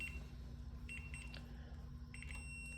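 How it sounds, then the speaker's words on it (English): A digital multimeter gives short continuity beeps as its probes touch an ATV frame, faint high tones chirping a few times over a steady low hum. "you'll hear that meter beep. That means you have continuity between the two"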